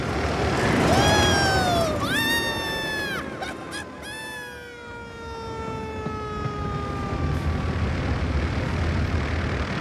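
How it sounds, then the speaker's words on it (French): A cartoon airplane propeller whirs and drones near and loud with rising and falling engine tones, with whistling siren-like pitch sweeps over it, in a children's animated train series. "Arrête l'hélice, tu entends?"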